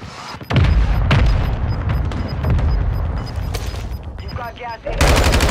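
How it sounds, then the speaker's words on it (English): A mortar strike in Warzone 2.0 lands as loud, rolling booms and rapid blasts that continue almost without pause, with a sharp burst returning near the end. "Mortar strike on the way."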